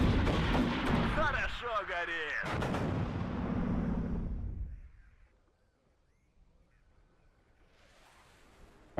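Heavy booming mortar fire in the WARNO tactical war game rumbles loudly in the first half amid battle noise, then fades to near silence.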